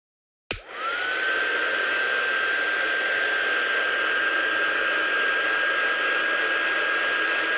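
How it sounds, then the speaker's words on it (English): A heat gun starts abruptly and then holds a loud, steady airy roar with a whine, drying ink on a card in a craft stamping session. It runs continuously, with no talking. "I'll just dry it with my gun a little bit."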